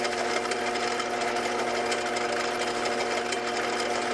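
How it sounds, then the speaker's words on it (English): A lathe run for the first time by a novice makes a steady mechanical whir with a constant tonal hum and faint rattling, close and unbroken, with no talking. "This is me learning how to use a lathe for the first time."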